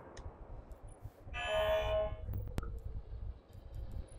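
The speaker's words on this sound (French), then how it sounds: "Ah, il y a des klaxons, mon gars." A vehicle horn sounds in the video game Destiny as a short, steady honk of about half a second. It is followed by a sharp click and faint, sparse game sounds at low volume.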